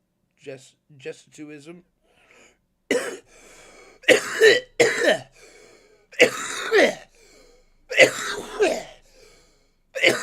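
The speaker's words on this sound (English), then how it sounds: "There's no reason for me to be coughing." Several harsh coughs in uneven bursts, fairly close, after some brief breathy vocal sounds, with short pauses between them.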